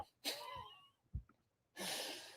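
A single close, sharp human sneeze with a breathy intake before it, followed by a burst of noisy exhalation, indoors and otherwise quiet.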